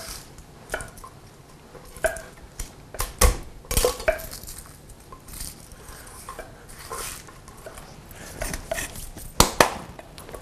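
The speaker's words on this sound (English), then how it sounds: "Don't mince them, just kind of chop them." Vegetables being coarsely chopped with a knife in a home kitchen, giving irregular sharp knocks and taps on a board, some grouped in quick bursts, with faint clinks of dishes between them and no talking.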